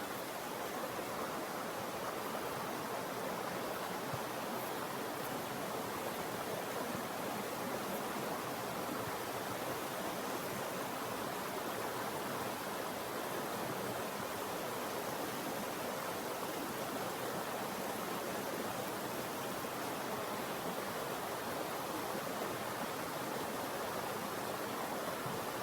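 Chittenango Creek water flowing, a steady broadband rush and babble that stays close and constant with no pauses or voices.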